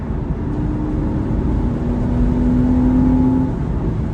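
A 2001 Porsche Boxster engine hums steadily and smoothly for about four seconds, building gently with a sustained tonal whine and no voices over it.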